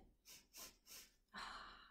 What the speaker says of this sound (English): Let me see you sniff.